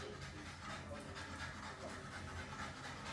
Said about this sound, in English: we're definitely in hard mode with Zeke panting